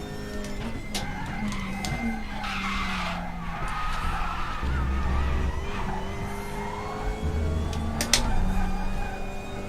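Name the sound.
race car driving on track in a touring car racing video game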